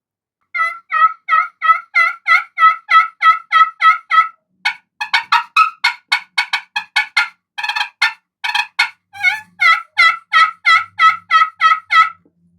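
Friction turkey call worked with a striker, producing rapid clucking yelps in a steady run, then choppier cutting notes and another yelping series, loud and close with no talk.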